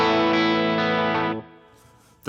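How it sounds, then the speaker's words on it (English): An electric guitar played through a reverb effect in Native Instruments Guitar Rig 6 rings out as a sustained chord, then cuts off, leaving a fading tail before a brief noise at the end. "That reverb sounds great."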